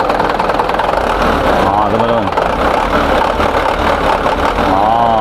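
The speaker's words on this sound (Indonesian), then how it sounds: "agak berisik ya karena ini bahan bakarnya solar" A Mitsubishi Canter 10-ton dump truck's diesel engine idles close by with a steady, rough drone and a slight rattle, while someone talks over it throughout.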